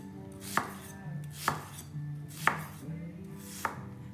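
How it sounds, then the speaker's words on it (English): Four crisp knife chops on an onion against a cutting board, evenly spaced about a second apart, close and clear with a quiet background and no talk. "just nicely chop it like that"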